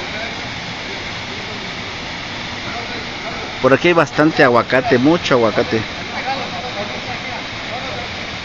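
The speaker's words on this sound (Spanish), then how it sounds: "Vean esta cascada." Cascada Huexocoapan near Atlixco, toward Popocatépetl: an unbroken rushing roar of falling water that fills the scene, while someone speaks Spanish up close over it partway through.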